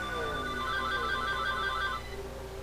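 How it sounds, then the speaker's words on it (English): A telephone rings loudly in a steady warbling electronic trill, a single long burst lasting about two seconds before cutting off, over a low background hum. "I apologize for the phone."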